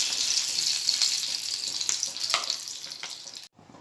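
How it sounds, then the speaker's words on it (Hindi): Chicken cutlets frying in hot oil, a bright, dense sizzle close by that eases slightly before cutting off abruptly near the end, followed by a quieter hiss. "ये देखिए तेल अच्छे से गरम हो गया है। अब मैं इसमें कटलेट डालूँगी।"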